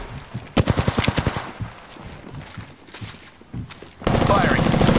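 Rapid bursts of video game gunfire, a quick run of sharp repeated shots followed by scattered hits and a loud sustained burst at the end, with a voice speaking under it.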